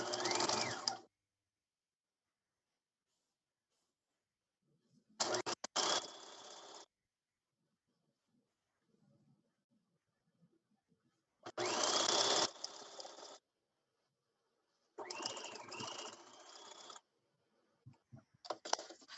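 A sewing machine basts a long straight stitch along the selvage edge of bag fabric for a satchel, running in four separate bursts of one to two seconds each with quiet pauses between, close and clear.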